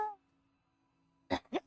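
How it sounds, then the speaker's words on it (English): Two short, close coughs in quick succession, the lingering cough of someone who has been smoking weed, heard after a brief faint sound and a stretch of near silence. "Slight residual weed cough."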